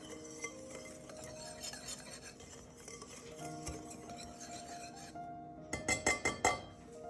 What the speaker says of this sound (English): Whisk all those ingredients together until they are fully incorporated.